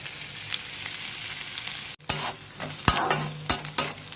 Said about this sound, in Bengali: পেঁয়াজটা লালচে করে একটু ভাজা হয়ে গেছে